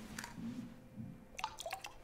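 Quiet liquid drips and wet squishing as water is mixed in Twelve Minutes, a brief cluster of small splashy clicks near the end, close and soft, with a low murmur of a voice beforehand.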